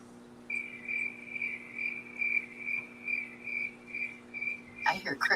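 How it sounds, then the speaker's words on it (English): Crickets chirp at night in a steady, pulsing trill of repeated bursts, moderately close, with a low hum underneath and a brief clatter and voice at the end. "I hear crickets."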